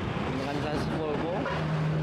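A Volvo tronton truck engine revving, a continuous loud drone with rising and falling pitch swells, under voices talking throughout.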